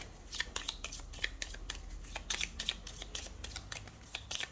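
Tarot cards are shuffled and drawn by hand in soft, rapid, papery riffles and flicks, faint and close, with no talking.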